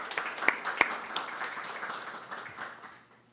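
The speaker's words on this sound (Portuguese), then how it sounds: "Palmas" Audience at a law association panel event giving a short round of applause for introduced panelists, scattered claps with a few sharp close hand claps early, fading out over about three seconds.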